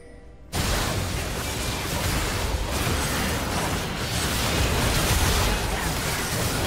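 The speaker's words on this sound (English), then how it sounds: "Red team's turret has been destroyed." A turret being destroyed in League of Legends: a sudden loud blast erupts after a quiet moment, then rolls into a sustained, dense rumble of crumbling debris that fills the rest of the moment.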